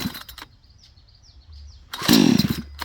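A budget gas chainsaw with the chain brake locked is pull-started: a few faint tugs and rattles, then at the end the engine suddenly fires in a loud, rough burst.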